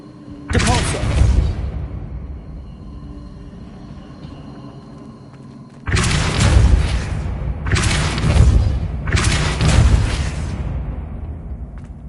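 Four powerful whooshing blasts of the Depulso force spell in Hogwarts Legacy, one early and three in quick succession later, each loud and booming with a lingering rumble between.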